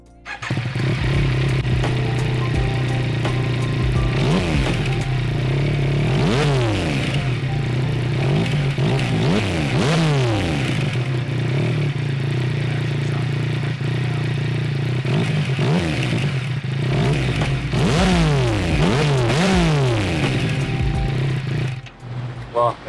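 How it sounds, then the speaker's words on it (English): Yamaha XSR 900 cafe racer motorcycle engine idling steadily and close up, with repeated throttle blips revving it higher and falling back, alone for about twenty seconds before shutting off. "So now I'm gonna turn on the bike so you guys can hear it."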